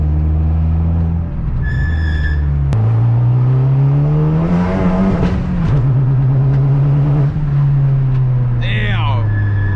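A tuned turbocharged 10th gen Honda Civic Si with an L15B engine accelerates hard with its tires spinning, the engine droning loud and close, rising and shifting in pitch while people talk in the car.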